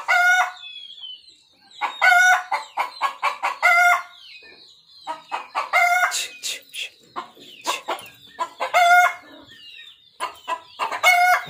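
A rooster and hens cluck and crow close by in a farmyard, with loud repeated bursts of squawking calls, crowing phrases and rapid clucks that come in clustered waves with short gaps.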